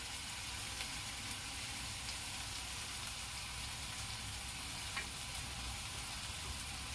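Turmeric, Kashmiri chili and cumin powder roasting in a pan, giving a continuous, even hiss of sizzling at moderate level with no voices.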